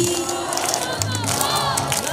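Devotional crowd at a nonstop bhajan Devi Jagran in Eta district cheering and chanting together, a loud, dense wash of many voices very close, with singing carried through it.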